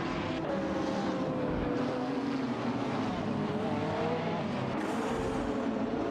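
Race cars in a racing video game, a Radical RXE and a McLaren 675 LT battling for position, a continuous droning engine whine with shifting pitch, steady and fairly loud with no talk.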